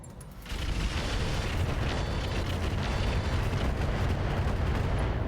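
A salvo of SRM missiles fires in the RogueTech mod of BattleTech, building quickly into a loud, continuous rumbling roar of launches and explosions that holds without a break.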